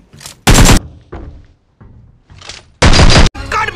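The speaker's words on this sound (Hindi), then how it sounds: "ये देखो फायरिंग आ रही है बुरी तरीके से" Gunfire in the mobile battle royale game BGMI, with two loud sustained bursts of shots and several shorter, quieter cracks and booms between them, sharp and close.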